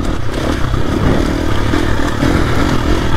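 A motorcycle rides a Montana mountain trail, its engine roaring loud and close throughout, with steady rumble, rattling and gravelly scraping from the terrain.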